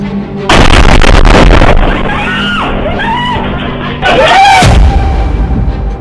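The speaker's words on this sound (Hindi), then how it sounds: "इजराइल की राजधानी तेल अवीव में फटा बम।" A bomb blast in Tel Aviv, recorded in news footage: a loud, sudden broadband burst strikes early and rumbles on for over a second. Chaotic noise follows, with a second loud burst near the end, and frantic voices or screams rise over the turmoil.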